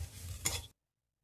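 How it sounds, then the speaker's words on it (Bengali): A spatula stirs potato, carrot and cabbage frying in a pan, a brief soft sizzle with one quick scrape before it cuts to silence. "আমি ভালো করে আবারও নাড়িয়ে নিলাম।"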